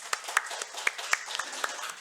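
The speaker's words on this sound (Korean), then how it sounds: "우리 박수로 격려하겠습니다." A church congregation claps in encouragement during a Sunday morning service, a brief scatter of individual handclaps at moderate distance, fairly faint.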